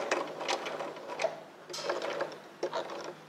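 Sewing machine stitching fabric around a curve, a soft rapid mechanical ticking in short runs with brief pauses between them, fairly quiet and close.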